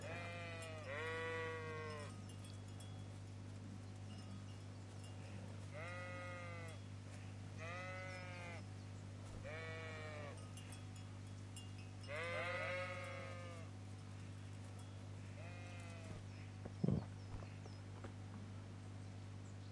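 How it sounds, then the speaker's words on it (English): Sheep bleat repeatedly in a video game, Kingdom Come: Deliverance, about six calls spaced a few seconds apart over a steady low hum, with a single sharp knock near the end. "Hush, sheep."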